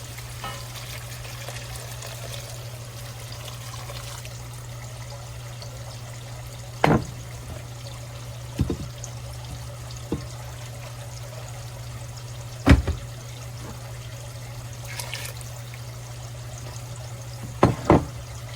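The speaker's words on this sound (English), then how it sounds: "we want to go ahead and pour our broth in to deglaze the bottom of that" Broth is poured into a pot of cooked potatoes, beef, onion and garlic to deglaze the bottom, giving a steady low sizzle and liquid wash with a few sharp clinks and splashes at intervals, no voices.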